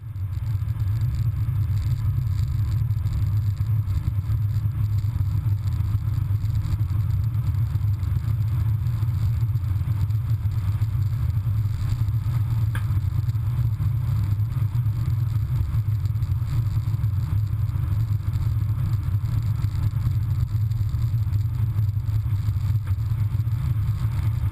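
A Dodge Charger patrol vehicle on a cold-morning test run, its engine giving a steady, loud, low rumble that holds unbroken throughout with no talk.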